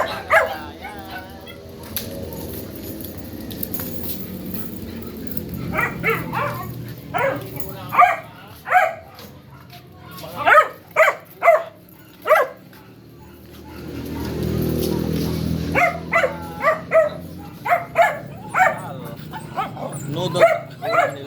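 Several dogs at feeding time, including puppies, break into bursts of sharp barks and yips with whimpering in between, close and lively. A person talks over a low rumbling background.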